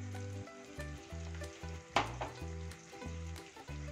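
Turmeric, chilli, coriander and garam masala fry in hot oil for masala bhindi, a soft continuous sizzle with occasional stirring scrapes, heard alone beneath a steady pitched tonal layer.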